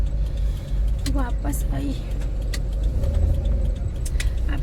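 A car rolls slowly along a narrow residential lane, a steady low engine and road rumble under a voice, with a faint jangle of keys partway through.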